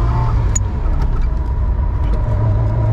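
A 1992 Ferrari 348 TS with a 3.4-litre V8 drives along at steady speed, its deep engine drone continuous and fairly loud from up close, with no talking over it.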